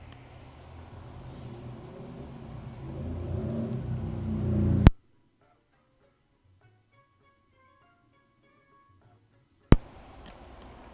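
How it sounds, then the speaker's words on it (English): Loud motorcycles pass outside a building, heard from the third floor as a low engine rumble that builds steadily for several seconds before cutting off abruptly, with faint music following. "people who ride motorcycles must go deaf after a while, because it's seriously, it's so loud from this distance up on the third floor"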